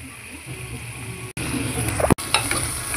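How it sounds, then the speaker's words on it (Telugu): Ginger garlic paste and curry leaves fry in a pan, giving a steady close sizzle with stirring scrapes throughout and two brief drops in between. "అల్లం వెల్లుల్లి పేస్ట్ బాగా వేగుతుంది, మంచి స్మెల్ అయితే వస్తుంది."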